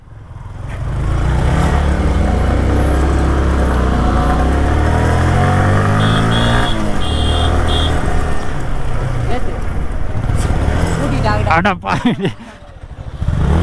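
A motorcycle on a tea estate in Ooty revs loudly as the rider lifts the front, its engine tone climbing and surging steadily with excited voices talking over it and a sharp drop near the end.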